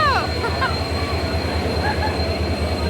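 The Howrah Puri Express rolls into a station close by, loud with rumbling wagons, rhythmic wheel clatter and high metallic squeals from the wheels.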